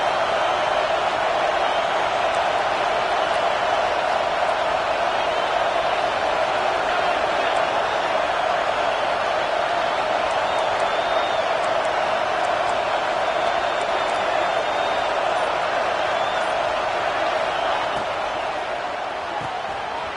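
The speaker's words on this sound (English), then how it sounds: "Listen to this crowd just shaking the girders of this place trying to help their defense" Dense, roaring football stadium crowd cheering to help the home defense, a steady loud wall of voices holding for the whole stretch and easing slightly at the end.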